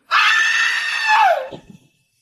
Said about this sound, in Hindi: मोहन ने रस्सी में भी आग लगा दी और एक भयानक चीख के साथ वो उस कुएं में गिर गई